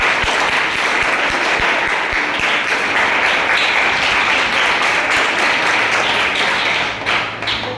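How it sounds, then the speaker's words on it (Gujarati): Sustained loud applause from an audience at a girls' school fireless food competition, steady clapping filling the space for several seconds before tapering at the end. "જોરદાર તાળી થઈ જાય"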